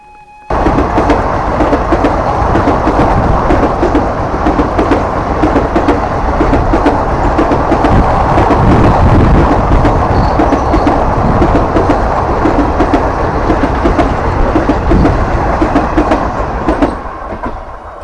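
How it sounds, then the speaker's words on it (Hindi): A train passes very close by on a mountain railway, a loud, steady rush of wagons with rhythmic clickety-clack of wheels on rails lasting the whole stretch before fading slightly at the end. "ब्यूटीफुल ट्रेन, नज़दीक से ट्रेन का नज़ारा।"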